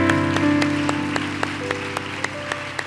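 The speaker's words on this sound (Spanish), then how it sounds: "Dale un aplauso al Señor" Audience applause for the Lord at a Spanish-language church conference, a steady wash of clapping with a few sharper claps standing out, carried over sustained keyboard or organ tones that run throughout.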